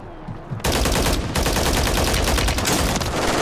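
Rapid sustained automatic gunfire from Call of Duty, loud and continuous after a brief quiet lead-in, with dense bursts of shots running to the end.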